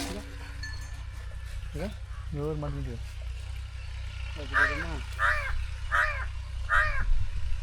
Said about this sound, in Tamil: காக்கா காக்கா பாரு